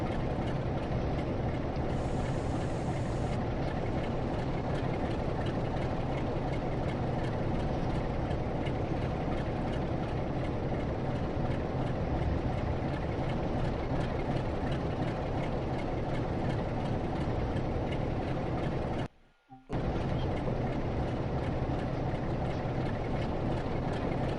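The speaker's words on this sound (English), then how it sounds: "the DMU's coming, and once the DMU's clear we'll be able to go again" A diesel multiple unit train approaches in the Train Sim World 2 railway simulator on a Great Western diesel route, a steady, dense rumble of engine and rail noise that holds throughout, broken by one brief dropout near the end.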